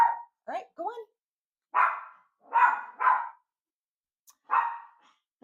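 A dog barks in several loud, close bursts with short pauses between them, and a person speaks briefly near the start.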